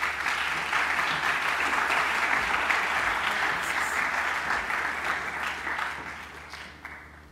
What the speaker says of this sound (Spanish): Recibamos con un fuerte aplauso al doctor José Manuel Orozco Garibay.